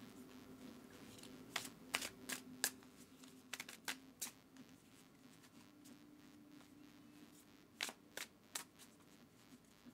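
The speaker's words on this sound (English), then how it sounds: "give the deck a really good shuffle for you" A tarot deck is shuffled in quick bursts of crisp riffling and tapping, close and fairly quiet, with pauses between rounds.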